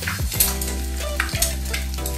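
An egg fries in a pan with a loud, continuous sizzle and crackle, with a couple of brief scrapes or knocks, and no talking.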